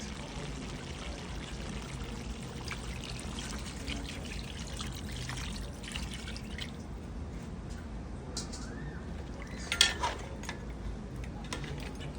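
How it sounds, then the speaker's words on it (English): Water poured into a pot of Jamaican curry goat that has been cooking for hours, a steady close splashing pour that keeps going with a brief louder gush near the end. "We're gonna add some more water to this."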